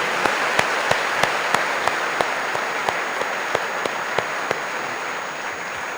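Sustained audience applause for Dr. Shashi Tharoor at a fireside chat, a dense steady wash of clapping with a few sharper individual claps standing out, loud and continuous with no talk over it.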